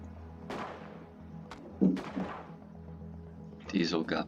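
Several sharp synthetic gunshot bursts from the space colony game Space Haven, each with a quick decaying tail, spaced irregularly and mixed with game effects.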